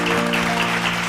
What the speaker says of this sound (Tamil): அதான் நம்ம எல்லாரும் கைத்தட்டுங்க